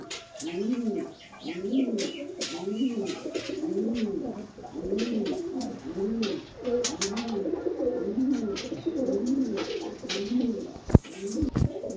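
Madrasi pigeons coo in a steady repeating rhythm, close and clear, with rustling, wing noise and a sharp knock near the end.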